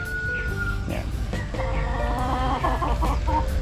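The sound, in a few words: chickens clucking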